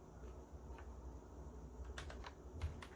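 Typing on a Cherry MX Board 3.0S mechanical keyboard with red linear switches and no steel plate: a few soft, quick keystrokes bunched near the end over a faint steady background hum, quiet and close.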